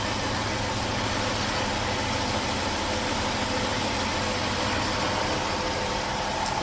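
A 2017 Jaguar XF 35t with a supercharged engine runs at a smooth, steady idle, a constant low hum heard alone at close range with no talking.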